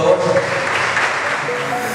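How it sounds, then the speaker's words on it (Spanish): An audience applauds at a Spanish-language book launch, a dense steady patter of clapping heard up close, with a voice speaking over it. "Un aplauso, por favor."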